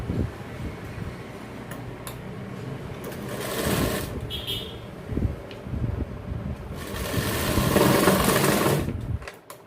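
An electric sewing machine stitches a fold on a tailored men's jacket, running in two longer bursts of rapid close whirring with quieter mechanical clicks between them.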